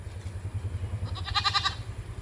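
Young Malabari goat kids give a quick burst of short, wavering bleats up close, set over a low steady background hum.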